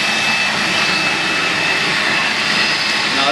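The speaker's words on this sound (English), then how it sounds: "now you can just do a vacuum if you wanted to with the squeegee down" A 20-inch auto scrubber runs in vacuum mode with its squeegee down and brush lifted, giving a loud, steady motor whine and rushing airflow that holds constant without a break.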